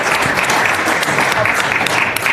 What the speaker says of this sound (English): Give Brother Crump a round of applause as the panelists come up.